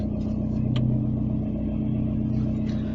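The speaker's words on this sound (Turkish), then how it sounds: "E, şimdi sizi aracı çalıştırayım bakalım ses nasıl. Çok fena çatırdıyor." Car engine running with its silencers removed, a loud, close, harsh rumbling idle with bursts of crackling and popping from the open exhaust.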